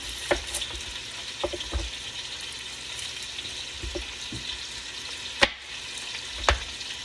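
Chopped onion sautéing in a pan as the base for Portuguese caldo verde greens soup, a low steady sizzle with a few sharp clinks and scrapes of stirring scattered through, no voices.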